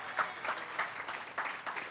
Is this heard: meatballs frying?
no